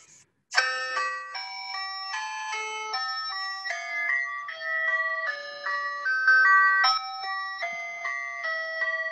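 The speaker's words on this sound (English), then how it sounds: "It's an ice cream truck." Tinkling chime melody of an ice cream truck plays alone, a bright bell-like tune of steady, evenly spaced notes running several seconds at moderate loudness.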